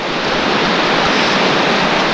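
Relentless rushing river water roars through the Virgin River slot canyon in Zion Narrows, a loud, constant broadband torrent close by with no break or talk over it.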